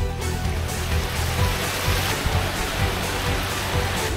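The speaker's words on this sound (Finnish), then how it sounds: "Suomen isoin vesiputous." Finland's largest waterfall, in a canyon on a hike toward Finland's highest point, roars in a steady, dense, continuous rush of falling water, loud and close, with no voices over it.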